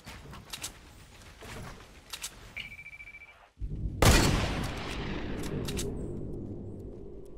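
Gunfire in Fortnite Battle Royale, a couple of faint distant shot bursts early, then one loud close blast that rings out into a sustained rumble and noisy tail.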